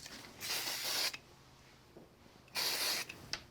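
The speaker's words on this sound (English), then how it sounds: "a little bit of spray on that." A spray bottle misting onto a craft tissue background, two separate bursts of broadband hiss, each about half a second long, close and clear over a quiet room.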